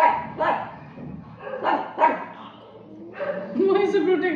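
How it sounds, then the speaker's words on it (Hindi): A dog barks from downstairs in a home with a rottweiler and a pug, a few loud barks and yips interleaved with a person talking over them. "और नीचे से भौंक रहा है।"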